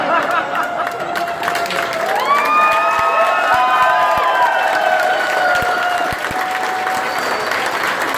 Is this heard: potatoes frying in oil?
no